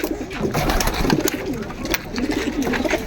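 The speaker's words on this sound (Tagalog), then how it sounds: "Ito na po yung mga kalapati namin" A flock of pet pigeons coos steadily and close by, soft throaty murmurs overlapping continuously with a little flapping and shuffling, and no talk.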